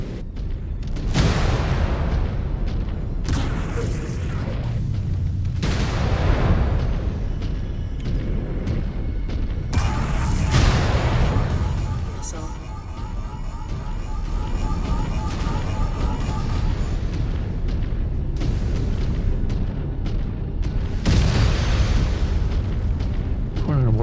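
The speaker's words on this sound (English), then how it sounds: "Incoming missile." Repeated booming missile explosions in a space combat game arrive in heavy, rumbling bursts over about twenty seconds, with voices talking beneath the steady din.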